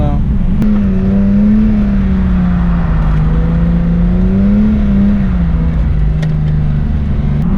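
A car spinning out in a roundabout drones loudly and close, its engine holding a steady, slightly wavering pitch throughout.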